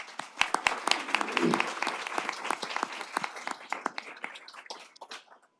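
Audience applause during a city council work session, a burst of individual claps at moderate distance that thins out toward the end, with some talking mixed in.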